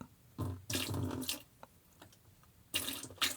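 White vinegar poured into a tub of water for soaking raw denim, heard as two short, soft splashing gurgles separated by a quiet pause, close and faint.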